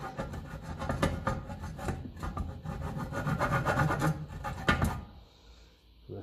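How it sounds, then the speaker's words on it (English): Rubbing on the metal grille of a Ferguson 20 tractor: steady, close-up abrasive scrubbing strokes with a rasping, gritty texture, continuous for several seconds before easing off near the end. "Give it a bit of a rub in there."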